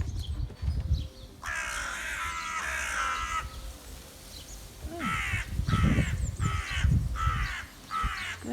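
Crows caw in a garden surrounded by trees in April. A long run of harsh calls is followed by a rhythmic series of separate caws, fairly close and clear against a quiet outdoor background.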